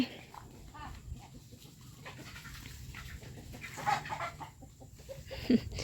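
Chickens cluck softly at a distance amid quiet outdoor background noise, with a few sharper clucks near the end.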